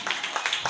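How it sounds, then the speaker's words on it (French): Short burst of scattered clapping from a small gathering of community members, a handful of uneven claps spread over under a second, fairly close and moderately loud. "On applaudit Tonton Fofana Seydou."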